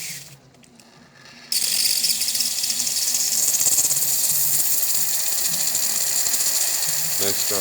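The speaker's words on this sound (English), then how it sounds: "Nice strong steam." A Canon coffee machine's steam wand sends out a strong, steady hiss that starts abruptly after a quiet moment and holds loud and continuous for several seconds.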